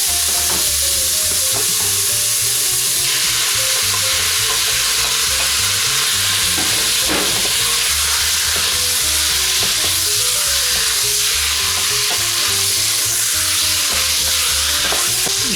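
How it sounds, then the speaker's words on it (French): Loud, continuous sizzling of chicken pieces frying in a hot pan, with scraping and stirring sounds throughout. "J'ajoute les morceaux de poulet."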